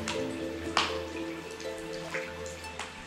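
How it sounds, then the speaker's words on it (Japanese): Snowmelt water drips on a mountain trail near an old coal mine in Hokkaido, several distinct close drips at irregular intervals over a low steady background murmur, with no talking. "これはおそらく雪解け水が今ポタポタポタポタ"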